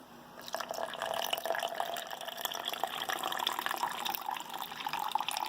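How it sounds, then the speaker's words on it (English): Cold water poured steadily from a slow-pouring container to mix a Chinese People's Liberation Army ration drink powder, a continuous close trickling and splashing with no talk. "Let's just mix it with some cold water."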